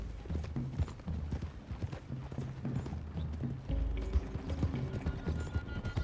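Horses galloping in the video game Red Dead Redemption 2, a steady rhythmic clatter of hooves with creaking tack and low rumble, continuous and fairly close across the whole stretch, with no talk over it.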